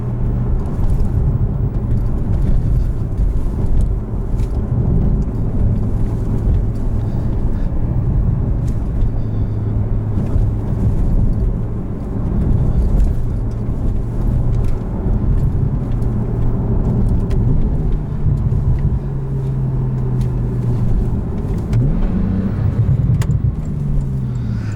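Steady loud engine roar and road rumble from inside a 2014 Porsche 911 Turbo S driven hard, continuous drone with rising and shifting engine tones as it pulls out of corners.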